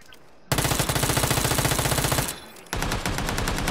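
Rapid automatic gunfire in a video game, a loud, close, evenly spaced burst of shots that pauses briefly and then resumes with another fast stream of shots.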